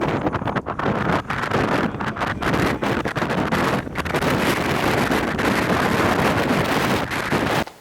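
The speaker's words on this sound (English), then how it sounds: "I step out the car and I am greeted with a big gust of wind" Strong wind buffets the microphone on an open lake bed in loud, roaring rushes with brief dips, a constant blustery roar filling the whole stretch.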